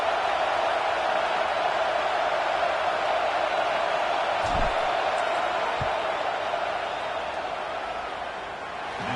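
A football stadium crowd roars during a field goal attempt, a dense, continuous wash of noise that stays loud and steady before easing slightly at the end.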